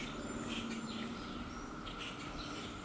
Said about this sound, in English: And that's birds and chipmunks and starlings.